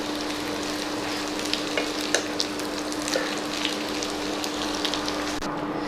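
Parotta shallow-frying in oil for restaurant-style chilli parotta gives a steady, close, dense sizzle with fine crackling pops throughout.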